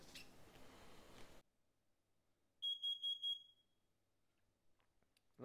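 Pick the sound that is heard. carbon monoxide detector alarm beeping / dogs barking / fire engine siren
carbon monoxide detector alarm beeping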